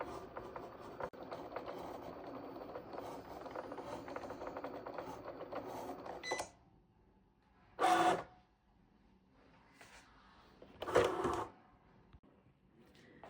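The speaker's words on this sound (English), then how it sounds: "I just like to use the cutting machine because it's more precise and it gives a cleaner look." An electronic cutting machine cuts paper for gingerbread-kid candy-dome favors. A busy mechanical whirring and rattling runs for about six seconds, then goes quiet, with two short bursts of motor movement afterward.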